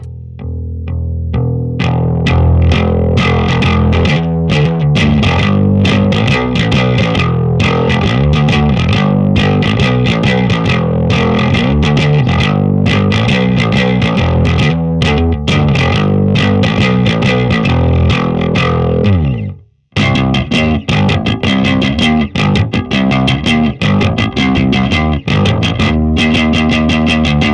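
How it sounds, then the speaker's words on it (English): A Rickenbacker electric guitar plays straight into a Fender Champion 100 amp miked with an SM58, loud driven chords with chorus-like shimmer strumming continuously, a brief pause near the end, then more chords. "What you just heard there was the Rickenbacker going straight into a Fender Champion 100 mic'd with an SM58."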